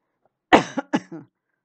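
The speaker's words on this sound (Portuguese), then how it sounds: "A tosse continua." A single close cough followed by a couple of quick, smaller throaty coughs, sharp and isolated against silence.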